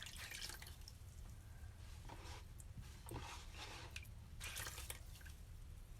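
Chalk Couture squeegees washed under water, with several close bursts of splashing and dripping separated by brief quieter gaps over a constant low hum.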